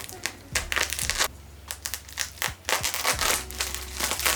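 A safety knife slices open the packaging of an SW-Motech short fender for a Yamaha XSR 700, with close, crisp crinkling and cutting bursts in quick irregular strokes.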